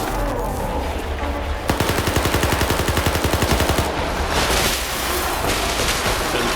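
Rapid automatic gunfire in S.T.A.L.K.E.R. 2, a loud, close burst of evenly spaced shots lasting about two seconds, followed by sustained roaring combat noise and further heavy impacts.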